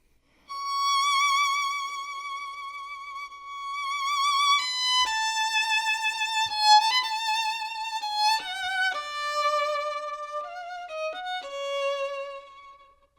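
A solo violin plays a bright, lively melody from Strauss's Ein Heldenleben, its notes bouncing in short, lightly separated portato triplets with no accompaniment.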